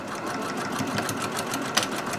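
An embroidery machine stitches the handles of a dachshund-design tote bag in a steady, fast, buzzing run of needle strokes, close and continuous with one small click near the end.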